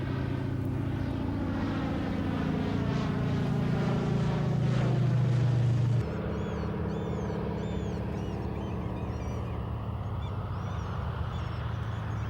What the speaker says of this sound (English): A floatplane needs much more space to take off than a wheel plane.